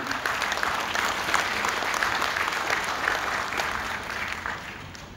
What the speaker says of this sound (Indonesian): Tolong tepuk tangan lagi.